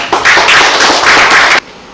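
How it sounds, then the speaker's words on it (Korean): Audience applause at a lecture forum on Confucian culture, a short burst of dense clapping that starts abruptly, holds steady for about a second and a half, then stops cleanly. "큰 박수로 맞이해 주시면 감사하겠습니다"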